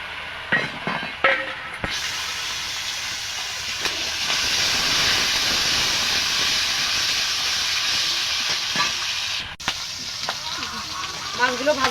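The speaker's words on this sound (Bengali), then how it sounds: "তেলটা গরম হয়ে গেছে, মাছগুলো ভেজে নেব।" Singi fish frying in hot oil in a wok, a loud steady sizzle and hiss that bursts in after a few soft clinks and holds for several seconds, with occasional utensil taps.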